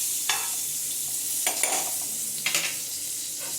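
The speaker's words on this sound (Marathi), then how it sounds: "मी बटर टाकते आणि असं छानपैकी स्प्रेड करायचं आहे पूर्ण पॅनला" Butter sizzling in a hot pan before stuffed mushrooms go in, a soft steady hiss broken by a few scraping strokes as it is spread across the pan, close, with no talk.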